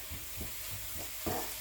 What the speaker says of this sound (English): Saute it for 1 to 2 minutes until it's cooked.